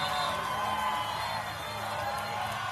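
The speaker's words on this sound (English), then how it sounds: "hundreds of far-left counter-protesters cheer and shout at them" Far-left counter-protesters at a rally in Toronto cheer and shout: a steady, dense crowd roar at moderate distance, without clear individual voices or breaks.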